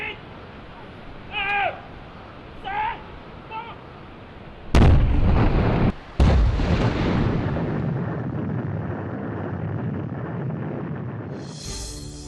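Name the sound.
explosive blast loosening rock on a mountain slope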